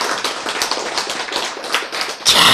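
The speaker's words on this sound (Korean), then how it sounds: "박수!" An audience at a religious lecture claps in a quick, close run of sharp taps, swelling into a denser, louder burst of clapping at the end.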